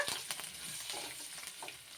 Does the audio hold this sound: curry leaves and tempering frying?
yes